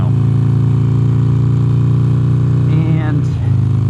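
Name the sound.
Harley-Davidson 1275 Sportster motorcycle engine riding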